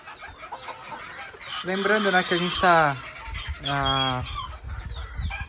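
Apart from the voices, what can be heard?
Mini Garnisé bantam chickens clucking in their pen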